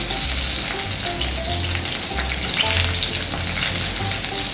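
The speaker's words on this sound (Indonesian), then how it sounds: "kita goreng semua bagian sisinya ya, jadi juga di samping-samping" Tempeh fries in a hot pan for a BBQ tempeh steak, a loud, dense, continuous sizzle and crackle close up, with no talk over it.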